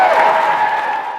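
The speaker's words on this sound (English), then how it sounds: "Let's give a big round of applause to the 2015 POSSE Scholars." Audience applause for 2015 scholarship recipients at a school district event, a steady broadband wash of clapping that holds at an even level for just over a second.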